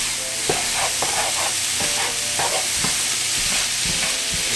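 Vegan meat substitute seasoned with onion powder and oregano frying in a pan for lasagna, a dense continuous sizzle with repeated scraping strokes of a utensil stirring at an uneven rhythm, close and loud with no talk.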